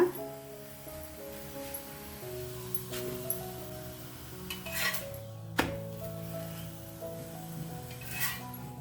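An urad dal flatbread gets turned on a hot pan with soft scraping and rustling, then a single sharp metallic tap, all fairly quiet over a steady humming background with no talking.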